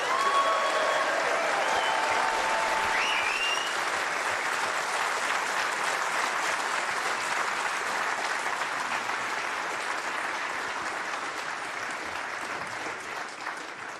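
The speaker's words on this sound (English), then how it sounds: "may we have one more round of applause for these 2 great players" Applause from the crowd at a snooker tournament, the Cazoo Tour Championship 2022, as a long, steady roar of many hands clapping that eases slightly toward the end.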